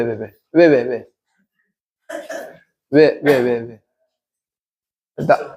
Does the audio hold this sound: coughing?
yes